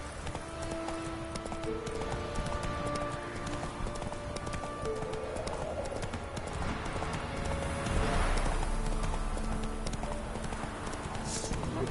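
Horse hooves clip-clopping at a steady gallop in The Witcher 3, continuous and fairly loud over game ambience and faint music, with occasional bird calls and a brief whinny-like tone.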